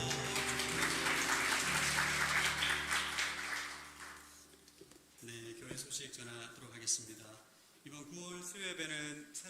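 A church congregation claps for each other, a dense burst of applause that fades out over a few seconds beneath music and voices, followed by speech.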